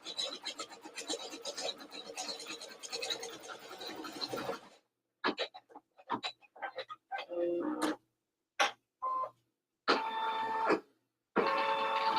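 An embroidery machine stitches in rapid mechanical bursts, a continuous whirring clatter at first that then breaks into short, separated stitching runs with quiet gaps between them.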